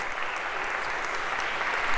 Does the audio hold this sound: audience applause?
yes